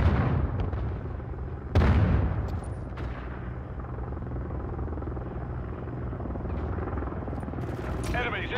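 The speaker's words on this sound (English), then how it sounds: "Friendly Overwatch helo inbound." Overwatch helicopter arriving in Modern Warfare 3 hardpoint multiplayer, a steady rotor rumble continuing throughout with a sharp burst of gunfire or an explosion near the start, game voice announcements over it.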